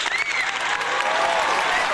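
Applause sound effect played on a livestream celebrating a channel's return, a brief dense burst of clapping and crowd noise lasting about two seconds, with a faint whistle-like tone mixed in.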